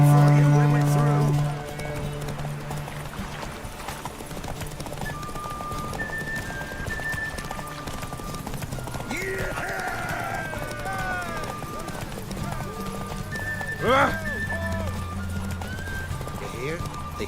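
Hoofbeats of Roach, the horse in The Witcher 3, galloping steadily with a rhythmic clip-clop and an occasional whinny, under in-game dialogue and music.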